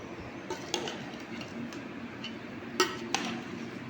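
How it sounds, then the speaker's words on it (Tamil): Pickle being stirred in a pot, a series of light metallic clinks and scrapes of a utensil against the vessel, a few sharper knocks standing out over a soft background. "போட்டு நல்லா கிண்டி வச்சுக்கிட்டு"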